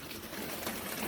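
Water running steadily from a tap in a camper, a soft continuous trickle heard up close and fairly quiet, with no voices over it.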